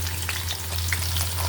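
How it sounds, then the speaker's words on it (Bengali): Bay leaf and chopped onion sizzle and crackle steadily in hot oil in a kadai, close and continuous, with faint stirring and a low steady hum underneath and no talking. "এখন দিয়ে দিলাম তেল, তেজপাতা, সাথে দিয়ে দিলাম পেঁয়াজ কুচি।"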